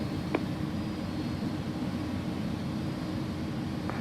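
An Airbus A300-600R rolls for takeoff in X-Plane 11, its engines giving a steady, broad roar with constant loudness and a couple of faint brief tones above it.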